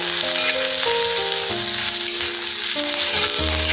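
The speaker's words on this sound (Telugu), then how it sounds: "అలాగే కొద్దిగా కరివేపాకులు యాడ్ చేసేసుకొని బాగా ఫ్రై చేసుకోవాలి" Curry leaves frying in hot oil in a pan with sliced onions: a loud, continuous hissing sizzle, close up, with music playing underneath.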